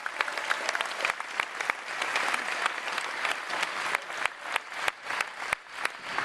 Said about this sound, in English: Everybody give Franz a round of applause.